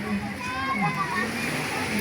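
Sea waves wash and churn steadily on a beach while voices talk over the surf.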